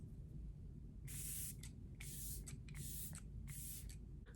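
A face mist bottle is pumped four times in quick succession, each a short soft hiss at close range over a quiet room.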